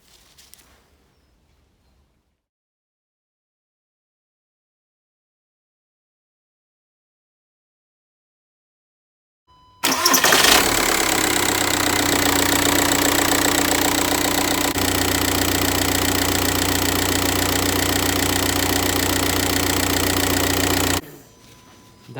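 After near silence, a 2006 VW Golf 1.9 TDI diesel engine starts abruptly following an oil change and idles loudly and close for about eleven seconds with a steady clattering rumble before cutting off.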